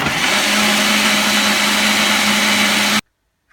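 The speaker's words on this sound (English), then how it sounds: "Now mixing everything again for 2 minutes." An electric mixer whirs steadily through chocolate cake batter made with olive oil, a loud continuous motor drone with a constant hum that runs for three seconds, then stops abruptly.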